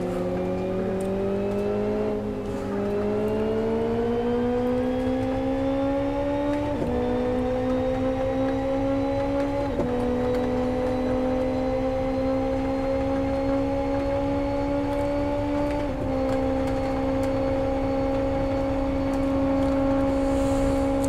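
Race car engines in the Live For Speed driving game, several engines humming together in steady close harmony, pitch climbing through the gears with brief dips at each shift, continuous and loud with no talk.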